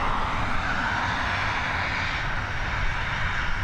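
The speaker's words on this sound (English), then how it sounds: "Heading over to Bristol, this Boeing 737." Boeing 737 jet heading out toward Bristol from Dublin Airport, a steady, moderately loud engine roar and rush that holds evenly throughout, with no voices.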